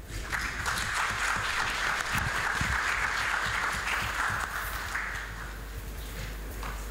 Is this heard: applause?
yes